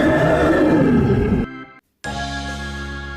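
A single loud, harsh animal roar of a crocodile sounds up close, cuts off abruptly and is followed by another sustained roaring growl.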